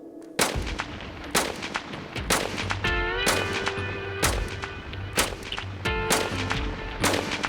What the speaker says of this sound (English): All right, firing in 3, 2, 1.